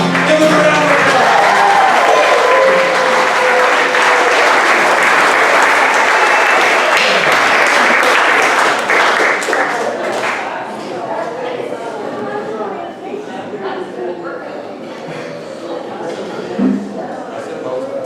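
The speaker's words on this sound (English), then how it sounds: "Give them a round of applause." Church congregation applause at a Sunday service, loud and dense at first, then thinning out and fading after several seconds as scattered claps and murmuring voices linger.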